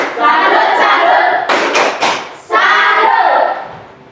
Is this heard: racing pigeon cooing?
no